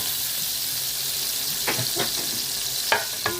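Frying in ghee and butter gives a loud, steady hiss, broken by a few scraping stirs and soft knocks toward the end.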